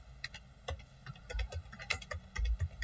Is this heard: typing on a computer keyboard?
yes